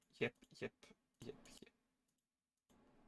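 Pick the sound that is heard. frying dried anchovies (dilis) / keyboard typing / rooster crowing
keyboard typing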